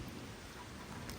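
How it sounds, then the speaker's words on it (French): Steady rain falling hard outdoors, a dense, even hiss close to the microphone with no voices. "Putain, il est en train de bien pleuvoir."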